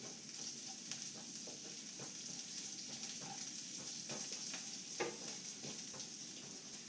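Grated coconut tempering sizzles in a pan for a raw mango chutney, a faint but steady frying hiss dotted with small pops and crackles throughout, with no voices.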